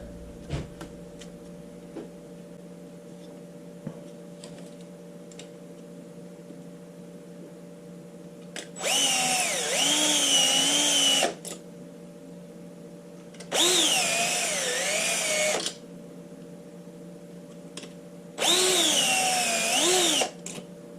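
A power drill bores rivet holes during an air compressor repair, giving three separate whining bursts of a few seconds each over a quiet, humming room.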